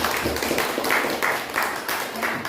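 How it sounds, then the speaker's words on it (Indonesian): Students clap in a classroom after a maths lesson, loud and close, with the clapping coming in rhythmic bursts. "Kasih tepuk tangan dulu"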